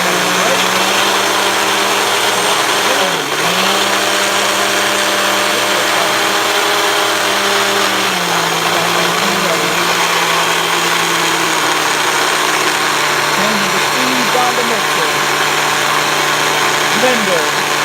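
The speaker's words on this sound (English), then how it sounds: "Time to blend" A kitchen blender whirs steadily through a batch of vegan cabbage stew, a loud continuous motor drone whose pitch dips and shifts as the contents churn, running nonstop with voices talking over it.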